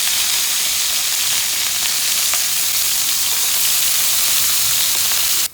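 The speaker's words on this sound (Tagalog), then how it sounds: "tapos na ang searing natin ng karne" Meat seasoned with fish sauce sears in a frying pan for menudo, afritada, mechado or caldereta, giving a loud, steady, dense sizzle and crackle close up with no talking.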